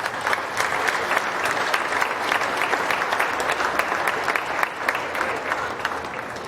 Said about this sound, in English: give these exhibitors in the steer ring one good round of applause